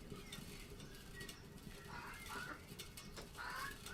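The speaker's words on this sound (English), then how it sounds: "Shut up, chicken." A chicken clucks in short, faint bursts near a workbench where a rattling bicycle rim is being checked. Low background noise runs throughout.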